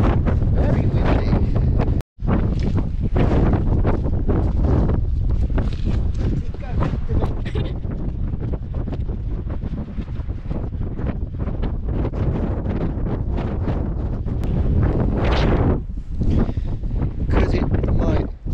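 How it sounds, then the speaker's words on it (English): Strong wind in Cornwall buffets the microphone in a loud, continuous roar that barely eases, with a brief dropout early on. "Very windy."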